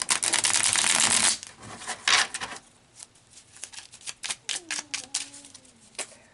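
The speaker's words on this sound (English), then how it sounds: "I feel like I need to do a shuffle to look specifically at the witch runes here." Tarot cards are riffled and shuffled in quick crackling bursts, loud at first, then softer intermittent snaps with a quiet voice in between.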